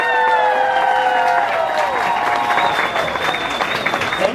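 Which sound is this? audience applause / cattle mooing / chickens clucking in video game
audience applause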